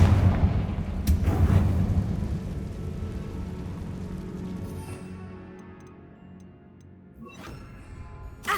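A Confringo fire spell bursts inside a tomb in Hogwarts Legacy, with a sharp crack followed by a heavy rumbling roll. The rumble fades out, and a second, fainter burst comes near the end.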